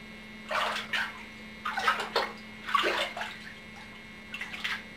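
Water splashing in a bathtub as a small child's hair is washed: four or five short bursts of sloshing and pouring, fairly close, separated by brief pauses over a low steady hum.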